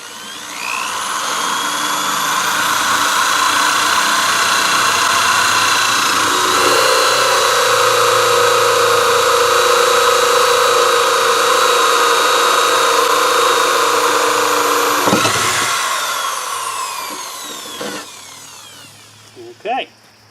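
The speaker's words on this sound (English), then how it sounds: "And let's drill this hole." A power drill whines steadily for a long stretch, loud and close, then winds down with a few short bursts and clunks at the end.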